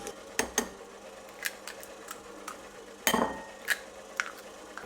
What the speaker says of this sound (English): I have is 3 eggs. They need to go in there, but I like to crack them into a bowl first